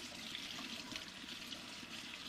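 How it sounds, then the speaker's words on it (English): Water runs and splashes steadily as an oil body scrub is rinsed off the skin, a faint continuous trickle with no voices. "Now I'm gonna rinse it off."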